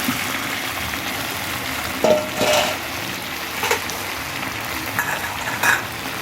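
Potatoes go into a pan of chicken curry, frying with a steady soft sizzle and scrape of stirring, with a few louder clinks and bursts of spatter along the way.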